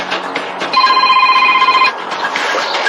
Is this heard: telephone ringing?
yes